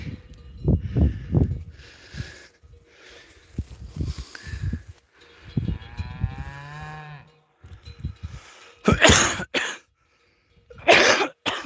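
A few rough coughs and throat clearing near the start, followed by a cow mooing, shuffling footsteps and more coughing later.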